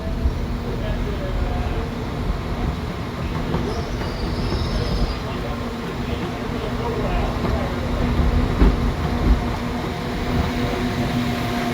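A train pulls into Shrewsbury station, with a steady rumble of wheels and rolling stock, faint squeals and clatter, and a loud passing mass close by; people talk over it.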